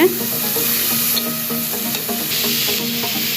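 Boiled, drained radish is stirred into a frying pan, giving a loud continuous sizzle with repeated scraping and clinking of a spoon as it is mixed.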